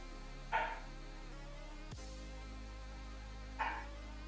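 A dog gives two short, faint barks about three seconds apart, distant against a quiet background.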